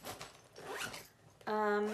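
A fabric zipper pouch is unzipped up close: a soft rasp of fabric handling, then a sharp, bright zip at the end, with no talk.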